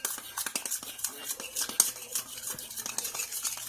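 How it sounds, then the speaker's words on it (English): Lotion slime being mixed in a bowl, a quiet close run of repeated sticky squelching and scraping strokes at an irregular rhythm with faint clicks. "mix it really well until you get your consistency"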